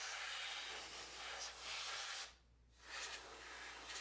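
Canned air blasts in two long, loud hissing bursts to clear dust from the check path of a Panini EverneXt check scanner, separated by a short pause, close up with no talking.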